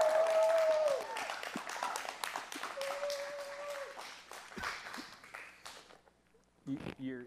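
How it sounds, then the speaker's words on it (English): A church audience applauds to welcome Pastor Phil, a loud burst of clapping at the start that thins out while someone speaks over it, then fades away. "you guys are going to be the crowd noise as I say, ladies and gentlemen, Pastor Phil"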